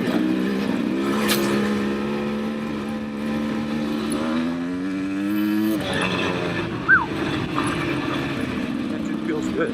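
A 2024 Beta 300 RR Race Edition two-stroke dirt bike engine idles and revs with a rising and falling buzzy tone, close by and loud, with a rider talking over it.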